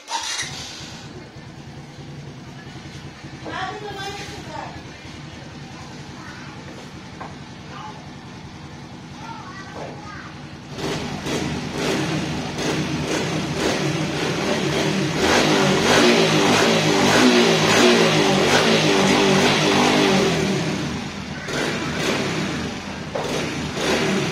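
A Suzuki Smash 115 FI fuel-injected motorcycle with a rough-running fault and a lit check-engine warning idles, then revs up loudly from about midway and holds a high, sustained engine roar, with faint voices in the background.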